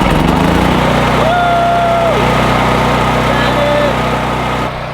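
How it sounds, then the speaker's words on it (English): A generator running to power a welder drones steadily and loudly throughout, a continuous engine hum with a brief whine rising above it midway, before the level drops slightly at the end. "I kind of miss the noise of the generator"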